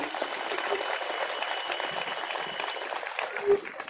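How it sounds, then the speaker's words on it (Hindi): Audience in a hall applauding to welcome an author, a continuous crowd clapping at steady volume from start to finish with no voice above it. "मैं चाहता हूं कैसे लेखक के लिए जोरदार तालियां होनी चाहिए आपके बीच"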